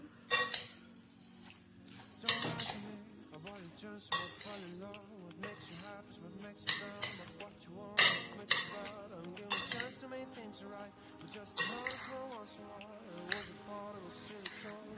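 A spoon stirs a Mexican bean salad with freshly squeezed lemon juice in a bowl, giving repeated close clinks and scrapes against the dish in an irregular rhythm, with no voices.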